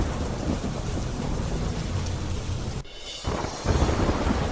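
Heavy rain pours down steadily during a night thunderstorm in Bhanvad town, with rolling thunder rumbling underneath and a brief dip before the downpour resumes loudly.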